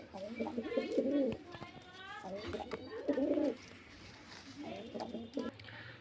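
Pigeons cooing at a pigeon sale in Beldanga, Murshidabad, repeated close throaty coos in rhythmic bouts, with a person talking underneath.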